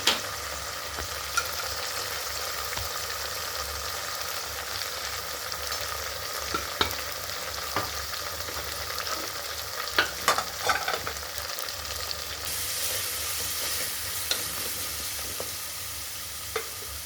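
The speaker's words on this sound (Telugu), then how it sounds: "పచ్చివాసన పోయే వరకు అల్లం వెల్లుల్లిపాయ బాగా వేయించుకోవాలా" Ginger and garlic fry in a pan, with a steady close sizzle and occasional scrapes and clinks of stirring, and no voices throughout.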